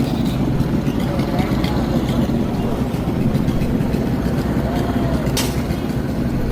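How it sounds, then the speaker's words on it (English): Street traffic during riots at night, with a constant low rumble of engines and passing vehicles, a brief sharp rising whine near the end, and people talking over the noise. "Oh man, I hear so many different types of engines."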